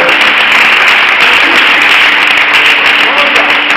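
Loud, dense congregation applause fills a church service, a continuous roar of many hands clapping with faint voices mixed underneath.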